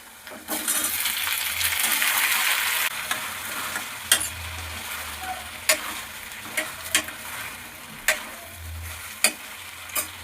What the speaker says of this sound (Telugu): ఇప్పుడు టొమాటో వేసేసుకుందాం.